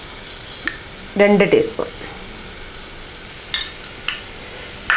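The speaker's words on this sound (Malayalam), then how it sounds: "എന്നിട്ട് നന്നായി വഴറ്റുക." Soya chunks (meal maker) are sautéed with spice powders in a pan for a Kerala-style soya roast, giving a steady sizzle punctuated by a few sharp spatula scrapes and clinks while a voice speaks.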